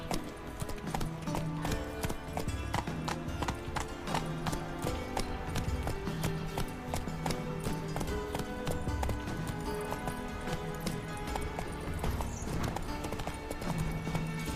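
Steady, rhythmic hoofbeats of a horse galloping in The Witcher 3, loud and continuous throughout, with a faint snort or whinny mixed in and game music underneath.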